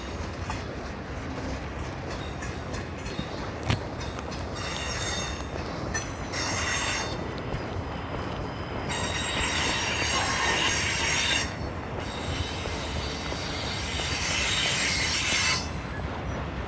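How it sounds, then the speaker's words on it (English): A passing train picks up speed in Stockbridge, Georgia, its wheels giving off long high-pitched squeals over a steady rumble and rail clatter, loud and close throughout. "Train's picking up speed."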